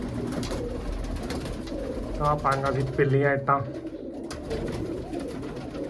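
Pet pigeons cooing in a coop among squabs, a soft rolling coo rising mid-clip while someone talks nearby.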